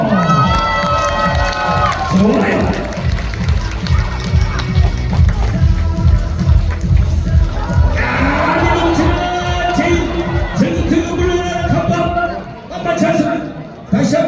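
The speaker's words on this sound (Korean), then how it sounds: "박수 한번 주세요" Spectators at a ssireum-style strength contest in Changnyeong cheer and shout loudly, a dense crowd roar with children's cries and an announcer speaking over the din.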